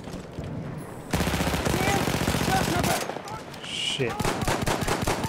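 Hip-fired automatic gunfire in Battlefield 1, a loud, rapid burst of shots lasting about two seconds, then further shots and battle noise, with someone speaking briefly.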